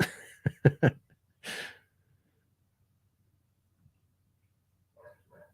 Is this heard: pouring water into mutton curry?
no